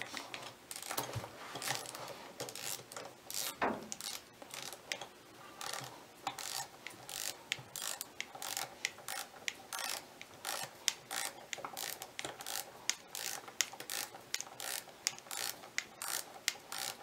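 A torque wrench ratchets and clicks while tightening three bolts on a Toyota Celica All-Trac GT-Four E153 transmission, giving a long run of close, sharp, rapid mechanical clicks in bursts with no talking.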